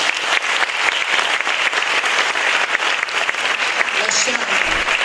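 Dense, sustained audience applause at a live music stage event, loud and steady throughout with crowd noise and no clear pauses.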